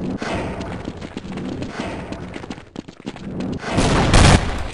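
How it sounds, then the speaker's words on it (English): Rapid bursts of gunfire and heavy thuds fill a Half-Life mod shooter match, loud and dense throughout, building into a strong blast-like swell near the end. "Oh, there's our hand grenades."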